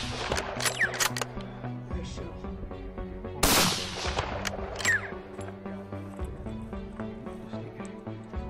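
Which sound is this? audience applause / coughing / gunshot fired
gunshot fired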